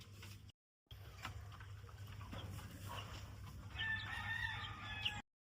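A chicken or rooster clucks and crows faintly in the distance outdoors. The calls are low-level and sit over steady background noise.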